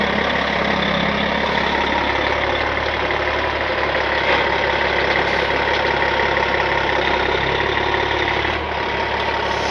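A show truck with a long trailer idles steadily in a farm field, a heavy, constant engine rumble held close and loud for the whole stretch with no break.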